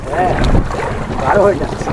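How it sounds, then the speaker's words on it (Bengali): Wind buffets hard and waves slosh against a small fishing boat rocking on a rough river during a storm, a close, continuous rush of noise. "ও বাবা এবার প্রচুর ঢেউ হচ্ছে নৌকা প্রচুর দুলছে"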